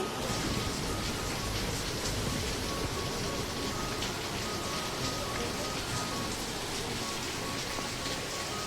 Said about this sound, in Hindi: ऊपर से बारिश भी होना स्टार्ट हो चुका है